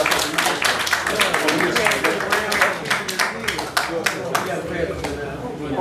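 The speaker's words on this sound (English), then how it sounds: "let's give them a round of applause" Audience in a seminar room on cashew farming investment gives a round of applause: dense, steady clapping from many hands throughout, with voices murmuring beneath.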